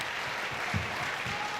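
Audience applause for a maestro at a veterans' honoring event, a short steady wash of clapping from a crowd, with some low rumbling in the room.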